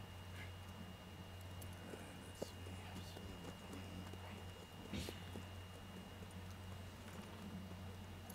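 Horse hooves clip-clop faintly in Red Dead Redemption 2, a soft, steady plodding buried under a low, constant hum.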